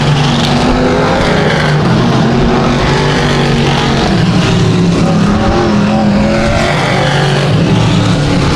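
A race car on the dirt track at Genesee Sportsman during a heat race roars steadily and loudly, its engine note rising and falling as it sweeps through the turns, with no voices over it.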